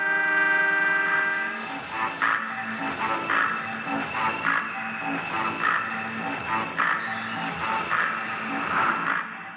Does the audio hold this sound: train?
yes